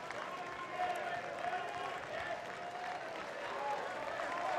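Baseball crowd at a college game, Minnesota versus Oregon State, cheering and applauding in a sustained, distant wash of claps and shouts, with a commentator talking over it.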